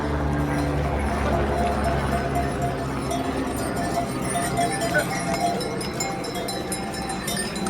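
Horses walk along the Kedarnath pilgrimage trek. A steady clip-clop of hooves runs throughout, mixed with faint bells and a murmur of voices from the busy trail.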